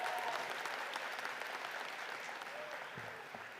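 A large crowd of graduates applauds themselves at a winter commencement ceremony, a dense, sustained wash of clapping that fades slightly toward the end, with a voice faintly audible beneath it.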